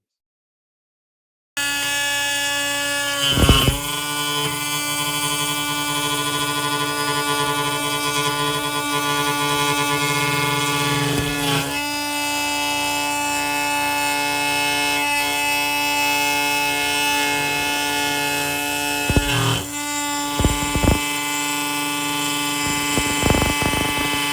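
A 1.5 kW spindle on an AnoleX 3030 CNC router makes a 6 mm test pass at about 18,000 RPM with a quarter-inch O-flute end mill. A loud, steady whine holds throughout, broken by a few brief louder bursts. No one speaks.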